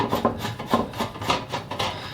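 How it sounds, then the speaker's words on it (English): Removing the back mounting plate of a master bathroom LED light fixture, a series of rhythmic scraping and rubbing strokes of metal against a surface, repeated roughly every half second, close and moderately loud with no talking. "I'm going to take off the back mounting plate now."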